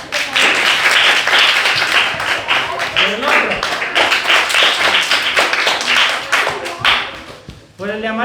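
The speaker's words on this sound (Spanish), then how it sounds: "van a tener que aplaudir nuevamente" Children and an audience clap loudly during a children's animal-sound contest, in a fast, dense patter with brief pauses, while an adult speaks in Spanish over the clapping.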